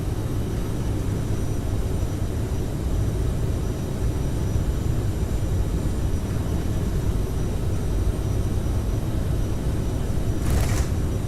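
Twin jet engines of a CRJ900 at full takeoff thrust in a flight simulator, a loud, steady roar that holds constant throughout with no talk over it.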